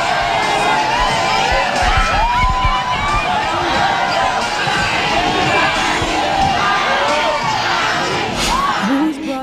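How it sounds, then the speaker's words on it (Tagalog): Boxing fans scream and cheer inside Cotai Arena in Macau at a Pacquiao versus Rios fight, a loud sustained crowd roar with high shrieks and whoops rising above the din throughout. "hindi na napigilan pa ang hiyawan ng mga fans"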